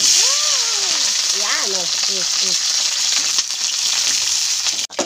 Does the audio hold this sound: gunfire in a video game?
no